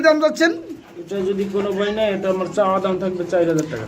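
A female pigeon coos at a farm selling breeding pigeons, producing close, repeated throaty coos that continue steadily through the clip, with someone talking alongside.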